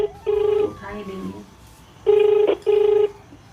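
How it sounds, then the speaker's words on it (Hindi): An outgoing mobile phone call rings out with a ringback tone, a steady electronic tone in short bursts: one ring, a pause filled by someone talking nearby, then a quick pair of rings. "इनको फ़ोन लगा रहा हूँ मैं, जिनकी गाड़ी थी अभी।"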